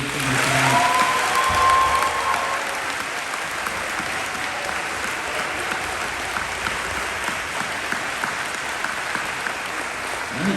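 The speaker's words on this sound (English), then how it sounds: "let's have one more round of applause for this incredible group of seniors" A crowd at a high school signing day ceremony for seniors gives a sustained round of applause, steady dense clapping lasting about ten seconds with a bit of cheering near the start.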